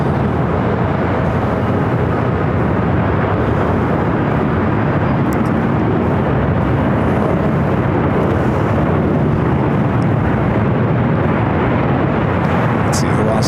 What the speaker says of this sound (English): Delta Airlines flight 767 coming in from JFK, a 767 to 300 ER now crossing over.